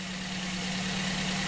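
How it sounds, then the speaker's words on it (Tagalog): A Toyota Vios engine runs steadily at close range, a continuous mid-low drone with a constant tone as the accelerator is pressed, with no clear rise in pitch. "Ngayon, tapatapa ko yung accelerator habang umaandar ang makina."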